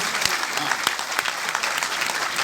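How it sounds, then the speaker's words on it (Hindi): Sustained applause from a large audience at an Urdu literary conference hall, dense, even clapping filling the whole stretch without a break. "मैं चाहता हूँ एक बार और हम सब मिलकर तालियां बजाएं"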